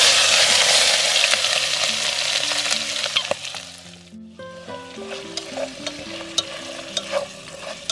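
Chot fish dropped into a hot pan for sour soup, a steady loud sizzle easing off halfway, then lighter crackling and a few scraping stirs over low tonal hum.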